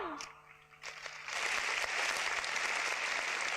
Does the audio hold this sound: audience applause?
yes